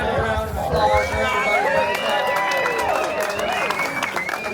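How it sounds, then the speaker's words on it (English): An audience at an event in a pizza restaurant claps and cheers, excited shouts and chatter rising first and a dense patter of hand clapping joining in and continuing to the end. "Can I have a round of applause for"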